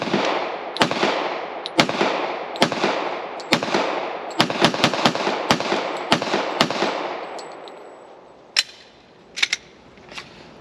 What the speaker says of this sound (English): Since he's been firing other 45s, he thought he would break out his old Glock 21.